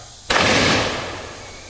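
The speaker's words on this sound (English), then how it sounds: "Here comes that loud noise, guys." A matchlock musket fires once at a living-history demonstration at Jamestown, a sudden loud boom that rolls off into a long fading rumble, heard alone without talk.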